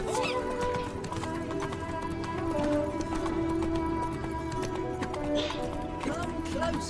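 The horse Roach gallops in The Witcher 3 with a steady clip-clop of hooves and an occasional whinny, beneath a game soundtrack and talk.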